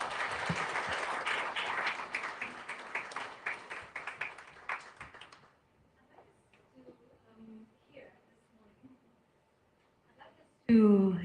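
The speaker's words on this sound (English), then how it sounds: "To give a warm round of applause once again" Audience applause at the NCBA Economic Forum: a steady round of clapping from a crowd for about five seconds, fading into quiet murmurs and faint room noise, then cut by a sudden loud sound at the close.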